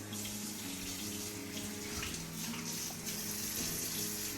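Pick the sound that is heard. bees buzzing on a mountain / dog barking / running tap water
running tap water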